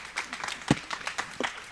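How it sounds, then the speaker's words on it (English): An evening audience at an arts conversation event gives a short round of applause, a scattering of claps with a few sharper close ones, fairly quiet and lasting under two seconds. "One big more round of applause for Ms. Renee Rossi."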